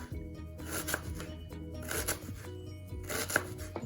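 A kitchen knife cuts straight across food, giving a few rough scraping strokes close by at a steady pace.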